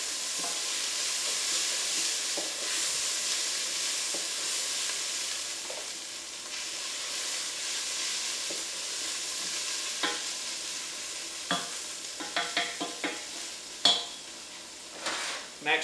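Ginger frying with onions in a pan for caramelised red onion chutney, giving a steady close sizzle, with a few sharp utensil clinks and taps against the pan toward the end.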